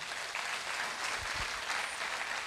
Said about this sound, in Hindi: हम चाहेंगे जोरदार ताली हो जाए